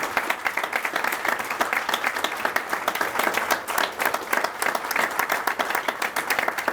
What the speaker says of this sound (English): give them a big warm applause.